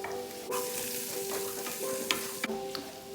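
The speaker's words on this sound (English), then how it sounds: "Give it a good stir." Chorizo and green pepper frying in a pan make a soft, steady sizzle, with a few scraping stir strokes and light taps from the spoon, close but fairly quiet and without speech.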